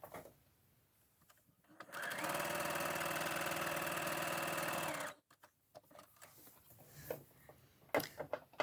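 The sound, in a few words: overlocker test stitching French terry fabric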